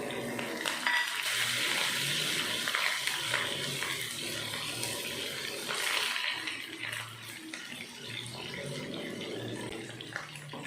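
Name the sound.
tempering of garlic, onion and curry leaves sizzling in pan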